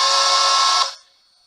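Long steam whistle from a Bachmann Spectrum K4 PRR 4-6-2 model locomotive's sound system, one steady harmonic blast held for under a second and then cut off, alone and fairly loud.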